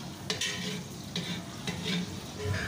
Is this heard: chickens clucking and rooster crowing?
no